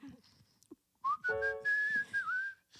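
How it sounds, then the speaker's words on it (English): A person whistles a short tune, a bright sustained pitch that slides and wavers, preceded by faint rustling and a brief quiet gap. "it's hard to mic up someone who's whistling"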